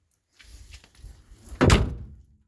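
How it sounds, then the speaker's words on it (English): The door of a 1971 Chevrolet Cheyenne pickup swings and then shuts with a single solid, heavy thunk, close by and alone. "Door shuts nice and solid."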